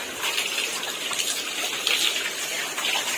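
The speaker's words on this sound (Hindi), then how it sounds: "इतना एकदम ना पानी डालते एकदम हरे भरे हो जाएंगे आज ये" Water gushing steadily from a hose pipe onto plants, a continuous hissing splash close by with slight surges and no talk.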